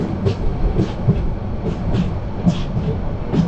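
A passenger train bound from Dhaka to Cox's Bazar runs through an underpass beneath a road bridge, giving a steady rumble with regular clickety-clack wheel beats about every half second, heard from on board.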